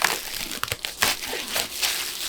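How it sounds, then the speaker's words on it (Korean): Plastic shrink wrap torn off an Off-White Chicago sneaker box, a close run of sharp crinkling and tearing bursts with brief pauses between them, no voices. "이 랩핑을 한번 뜯고 박스도 한번 보여드리도록 할게요"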